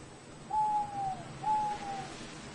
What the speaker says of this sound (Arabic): تصطاد البومة المصفرة صغائر الثدييات كما أنها تأكل الحشرات